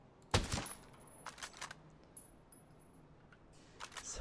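Suppressed sniper rifle shots in Ghost Recon Breakpoint, a few quiet, short thuds spaced apart over a low, faint ambient background.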